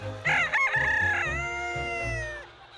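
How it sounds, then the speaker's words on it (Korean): A white silkie rooster crows once, loud and near, with a long drawn-out call. Low clucking from other silkie chickens in a yard runs underneath. "닭들이 마당을 노니는 사이"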